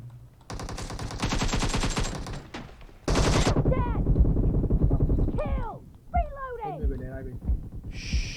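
Rapid automatic gunfire from an AKM rifle in the mobile game PUBG Mobile, long dense bursts of shots that come through loud and close while players talk excitedly over them.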